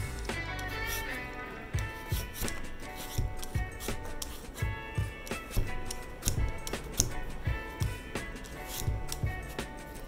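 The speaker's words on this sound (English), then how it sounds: "It helps to peel off the cover of the Irish potato, and you can see it is peeling so well." A knife peels the skin off an Irish potato in a kitchen, making repeated small scraping clicks and soft ticks at an irregular pace, close up and fairly quiet.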